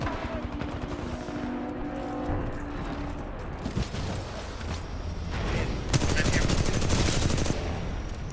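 Rapid automatic gunfire and bursts of shots from the shooter game Titanfall 2, dense and continuous across the clip, growing louder and more intense toward the end, with occasional mechanical clatter and voices talking underneath.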